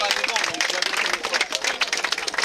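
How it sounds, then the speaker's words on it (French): Spectators applauding at a duathlon briefing outdoors, brisk scattered clapping from a small crowd, fairly distant and mixed with voices. "Je vous demande d'applaudir."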